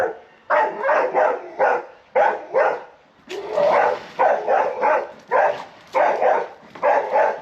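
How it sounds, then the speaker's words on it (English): A dog barking near a small railway station and level crossing, loud and close, repeated barks in quick clusters throughout with only brief pauses. "And another dog."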